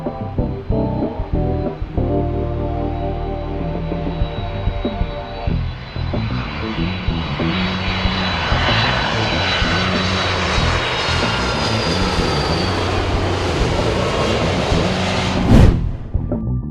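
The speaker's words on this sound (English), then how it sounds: "The dude owns a crazy Boeing 767 airplane." Boeing 767 airliner engines build into a loud, broad roar that swells steadily over about ten seconds, over a steady musical bed, ending in a sharp burst.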